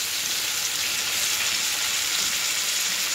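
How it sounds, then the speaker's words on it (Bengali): Steady, loud sizzling hiss rises from a pan after water is sprinkled over soaked dalia frying in oil with vegetables, cashews and raisins, continuous and close throughout. "একটু জল ছিটে দেবো"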